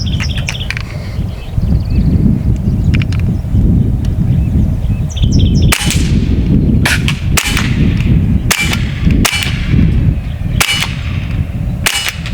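An AEA SF .30 caliber air rifle firing semi-automatic shots at an outdoor range, eight loud sharp cracks in an irregular sequence, close to the listener, over rustling background with faint birdsong.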